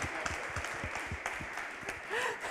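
Faint, sparse clapping from a small audience at a university talk on interdisciplinary research centres, a few hands patting irregularly for a couple of seconds in a quiet hall.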